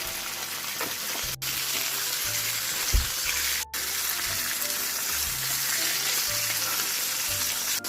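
A fish fries in a pan over low heat after being flipped, giving a constant close, even sizzle with a brief thump partway through and no voices.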